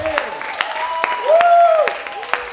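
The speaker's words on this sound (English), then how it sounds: "Let's give Virgilia a huge round of applause." Applause at a personal branding training for beauty pageant contestants, a room of hands clapping steadily with a speaker's voice continuing over it.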